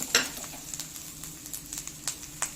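Rice with coconut being sautéed in a pan, a soft steady sizzle with scattered stirring scrapes and light spoon taps, close and fairly quiet.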